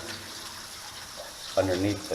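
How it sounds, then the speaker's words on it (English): Water flows out of a tunnel and sinks away nearby, a steady close rushing that swells louder partway through while a person talks over it. "all this water flowing out of here pretty much sinks right there"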